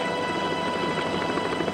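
A helicopter hovers beside a mountain cliff during a rescue, its steady rotor and engine roar loud and continuous throughout, with no voices.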